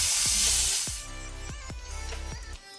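Ginger garlic paste fries in hot oil in a pan, with a loud sizzling hiss at first that fades as several sharp spoon knocks sound against the pan.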